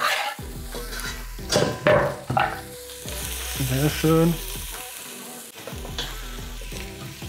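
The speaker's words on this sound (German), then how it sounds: "So, Zwiebel und Knoblauch rein in das heiße Olivenöl." Onion and garlic sizzle in hot olive oil in a pot, with stirring scrapes and clinks of cookware, loud and close while someone briefly speaks German.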